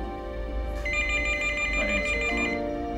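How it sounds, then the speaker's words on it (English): Telephone ringing with a steady electronic warble that rises and pulses over a low background rumble, moderately loud and continuous throughout. "But at that instant, the phone rang."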